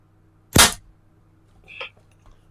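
A single sharp smallbore rifle shot at an indoor benchrest range, close and loud with a short decay. About a second later comes a fainter mechanical click, then quiet.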